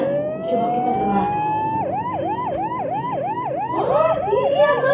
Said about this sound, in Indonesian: Itu menunjukkan mobil ambulannya membawa pasien cepat-cepat